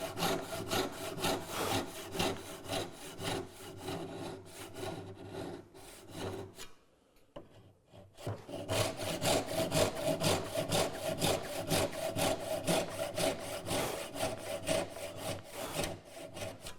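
A hand saw cuts a wooden dovetail joint in steady, rapid rasping strokes. The sawing stops briefly partway through, then resumes and continues close and loud, with no talking.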